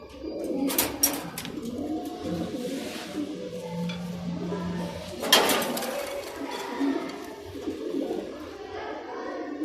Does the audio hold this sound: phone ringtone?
no